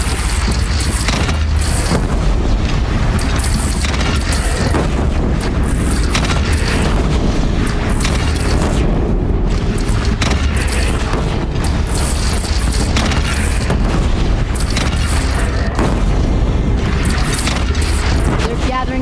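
Heavy cannon booms in Horizon Zero Dawn, dense and loud throughout, mixed with a steady roar of battle noise and voices talking over the fight.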